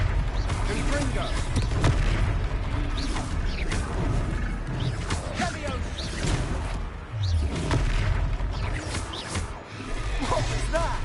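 Fiery spell blasts and booming impacts from a Hogwarts Legacy wizard duel, a steady barrage of whooshes, crackles and thuds layered over game music, with voices speaking over the chaos.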